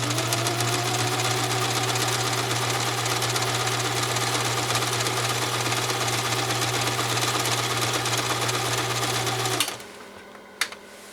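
A Kenmore model 1351 sewing machine, restored from critical condition, runs steadily with a continuous loud mechanical whir and hum for about ten seconds, then stops abruptly, leaving a few faint clicks.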